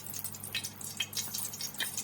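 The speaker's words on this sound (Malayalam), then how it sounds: "പോരാ, കുറച്ച് കൂടുതൽ നെയ്യ് ഒഴിക്കാം." More ghee going into a pan for beetroot rice: scattered small drips and crackling spits keep popping unevenly, close by, over a constant low background hum with no voices.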